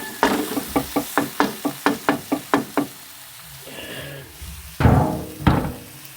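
Tomatoes mashed in a cooking pan with garlic: a quick run of about a dozen sharp, regular knocks and squishes, then a soft wet sizzle and two heavier thumps, close and alone.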